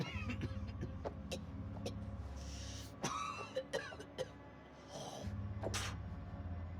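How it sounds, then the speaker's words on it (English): A video game character coughs in a tense scene, a few short sharp bursts around the middle over a steady low engine-like drone and game ambience. "That's a nasty cough."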